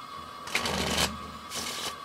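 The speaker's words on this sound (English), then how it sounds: "and then shuffle it in" A deck of playing cards being shuffled into the pack during a close-up card trick, two short crisp riffling bursts separated by a brief pause, close and fairly quiet with no talking.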